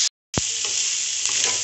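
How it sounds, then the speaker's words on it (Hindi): Vegetables stir-frying over high heat for Schezwan veg fried rice give a loud, steady sizzle close by after a brief silent gap, with a few clanks of the pan or utensil mixed in. "तेज आंच में ही इसको फ्राई करना है"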